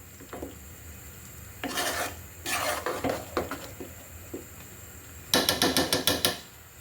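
Chana dal being stirred into ghee for halwa, with bursts of gritty scraping and rasping of a spoon against the pan, separated by quieter gaps and ending in a quick series of strokes, close by with no talk.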